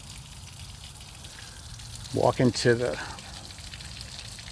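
Water runs from a hose at a 2005 Crownline 270 boat, making a steady, moderate hiss throughout while someone speaks briefly over it.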